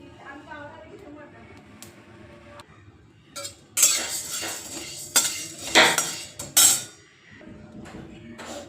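Wheat grains roasting dry in a pan while being stirred for a Marathwada-style yesar masala, with sharp scraping clatters of a spoon on metal in a few loud bursts after faint background talk.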